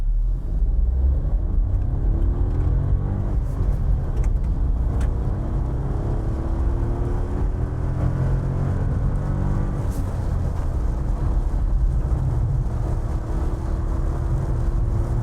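The 1.2-litre naturally aspirated engine of a 2026 Suzuki Swift strains as the car gathers speed, a continuous loud cabin drone whose pitch climbs slowly through the gears, with road rumble underneath and no talking.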